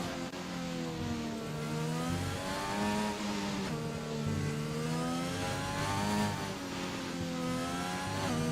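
An Alpine F1 race car engine in a racing video game, qualifying at Abu Dhabi, gives a sustained, loud, high-pitched whine that rises and falls in pitch through gear changes across the lap.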